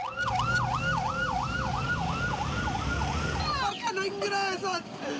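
An ambulance siren wails in a steady rising-falling cycle, then shifts to a faster yelp as the ambulance pulls away amid road noise.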